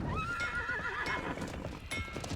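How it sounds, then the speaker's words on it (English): In the fantasy battle royale game Realm Royale, a horse whinnies loudly with a rising, wavering neigh over continuous galloping hoofbeats and game ambience. "On a horse."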